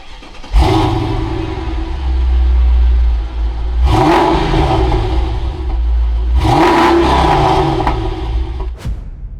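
A Mercedes E55 AMG (W211) engine revs hard three times, each burst rising to a loud, deep roar before dropping back to a rumbling idle, heard close and alone.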